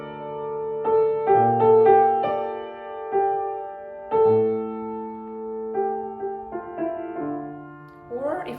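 Piano playing Schubert's Serenade with only the melody and bass line, harmony stripped out, giving a sparse, gentle phrase of single notes over low supporting tones, moderately quiet and unaccompanied.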